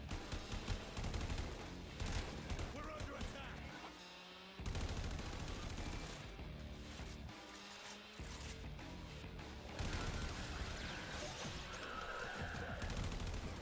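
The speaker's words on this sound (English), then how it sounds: "Who's shooting at me?" Gunfire in the video game Warframe, a dense continuous barrage of rapid shots and impacts that fills the scene with only brief lulls and no talk.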